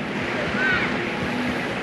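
Waves washing on a white sand beach in Quirino at low tide, a soft steady surf rush mixed with wind on the microphone and a faint whistle-like tone.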